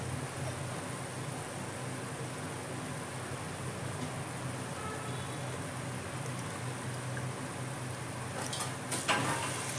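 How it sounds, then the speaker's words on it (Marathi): Rice poured into a pot for Hyderabadi chicken mandi brings a steady broadband hiss and sizzle that holds for about nine seconds, with a brief louder rattle near the end and no talking. "आता याच्यात आपण राईस ॲड करूया."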